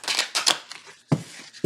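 A deck of 44 oracle cards is shuffled from the side in a few quick riffling bursts, papery slaps and rustles close to the ear, separated by short pauses, with no talk.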